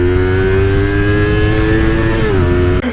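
A Yamaha R25 motorcycle engine revs loud and close as the throttle opens, a sustained high whine holding pitch before dropping off sharply near the end, with no speech.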